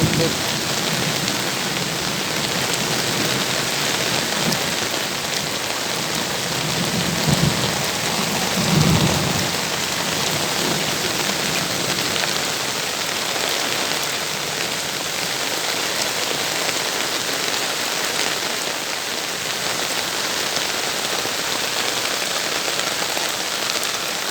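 Heavy rain falls over a village during a thunderstorm with lightning, a dense steady roar of drops on surfaces, with a low thunder rumble swelling briefly partway through.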